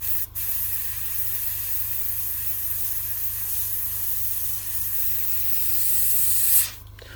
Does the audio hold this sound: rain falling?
no